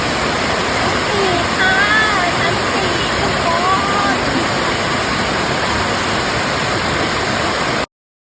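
Erawan waterfall in Kanchanaburi, seen from its fourth tier, pours in a loud, steady rush of water that fills the whole stretch, with faint voices of other visitors mixed into the roar.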